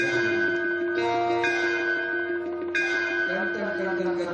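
A bell rings with several clear strikes, each leaving a long, bright, humming decay that overlaps the next, fairly close.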